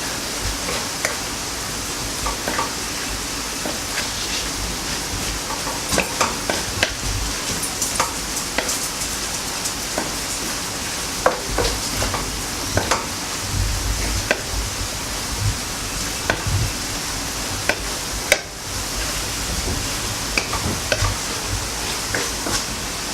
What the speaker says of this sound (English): And give another stir.